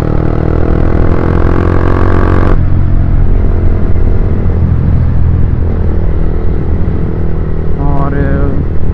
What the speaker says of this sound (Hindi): गाइस ज़रूर बताइएगा एग्जॉस्ट कैसा साउंड कर रहा है।